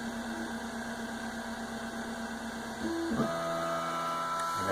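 ShapeOko CNC router moving its spindle down to touch a 1 mm plate and then homing the X and Y axes; soft, steady stepper-motor whirring that shifts to a louder, higher-pitched tone about two-thirds through.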